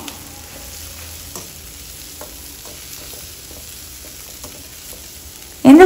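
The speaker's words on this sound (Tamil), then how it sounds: "இந்த வெங்காயம் வந்து ரொம்ப வதங்கணும்னு அவசியம் இல்லை," Sliced onions sauté in a pan for Chettinad kara chutney with a quiet, steady sizzle, punctuated by soft clicks of stirring, then a sudden loud burst of frying near the end.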